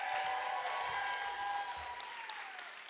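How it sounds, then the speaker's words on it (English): Sustained audience applause at a spoken word showcase, a dense wash of clapping that stays loud, then thins slightly toward the end, with a tonal whine running under it. "Applause for yourselves."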